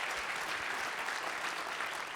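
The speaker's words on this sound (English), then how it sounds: "keep your applause going" A comedy club audience in North Carolina keeps up thick, continuous applause between acts, a loud, dense wall of clapping with no individual claps standing out.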